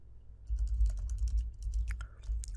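Typing on a computer keyboard: quick, close, irregular bursts of key clicks over a low steady hum, with no talking.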